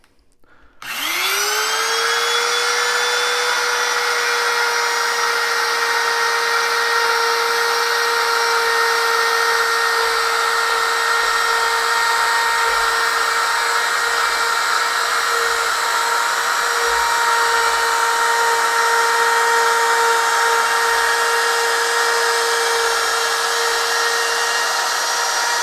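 Power tool making the top cut in a wooden piece for a bridge arch detail, a loud, steady high whine that starts abruptly and holds constant for the whole stretch, alone without speech.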